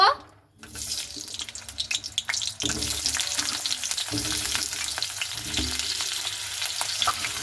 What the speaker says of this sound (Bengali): এবার আমি দিয়ে দিচ্ছি কড়াইয়ে তেল এবার আমি সেই আলুগুলোকে সবার প্রথমে ভেজে নেব